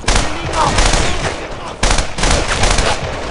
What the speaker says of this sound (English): the FG-42. It sounds high caliber, devastating, and audibly distinct as weapons level up in power